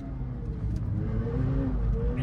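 McLaren 720S with its stock exhaust revving on a tight mountain road, a loud, close engine note with rising and falling harmonics that holds steady throughout.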